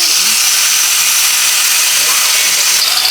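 A drill bores into 3/8-inch flat steel strap, a steady high-pitched whirring grind close up that runs continuously for a few seconds.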